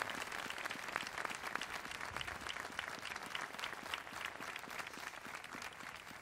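Audience applauds a music group at a Noche de Taifas performance: steady, dense clapping from many hands, fairly faint and distant, running evenly throughout with no voices.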